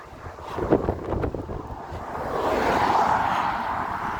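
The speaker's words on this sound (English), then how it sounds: "I can't believe how windy it is today." Gusty wind outdoors between Alness and Invergordon, Scotland, rushes past the microphone, a few sharp buffets early, then a steadier, louder roar of blowing air.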